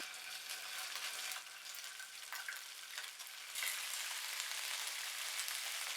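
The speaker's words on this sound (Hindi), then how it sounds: "कढ़ाई में डालेंगे 2 टेबलस्पून ऑयल और 1 टीस्पून अदरक लहसुन पेस्ट" Ginger-garlic paste fries in hot oil in a wok with a steady, hissing sizzle. The sizzle is fairly quiet and close, and faint stirring scrapes surface now and then.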